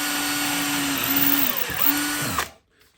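A power drill fitted with a 2mm bit whines loudly up close while boring into the woodwork of a ring-the-bell high striker, its pitch wavering before it abruptly cuts out.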